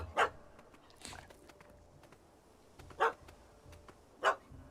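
A puppy in a video game barks in short, sharp yips, about four separated barks over a low ambient game background, with no talking.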